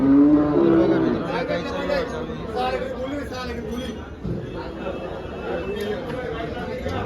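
Cows mooing amid a busy cattle market in Dhule selling Jersey and HF cows, with people talking and chattering nearby throughout.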